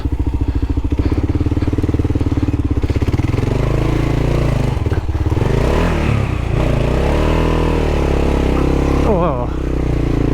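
A KLR650 motorcycle bogged down on a solo crossing of the Simpson Desert revs hard and loud, its engine note rising and falling throughout, with clattering and scraping as it strains to move. A voice can be heard over the engine.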